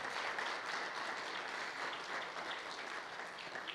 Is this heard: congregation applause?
yes